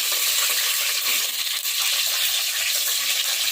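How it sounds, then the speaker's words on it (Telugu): Onions frying in a pan of hot oil, a dense, steady sizzle that holds at a constant loud level with faint stirring clinks, no voices. "మొత్తం నూనెలో ఉల్లిగడ్డ వేయడం కావాలి"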